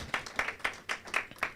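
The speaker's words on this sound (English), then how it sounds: "Can we have a round of applause for our partners?" A press conference audience claps for partner organizations, with sparse, distinct hand claps spaced out over a brief moment.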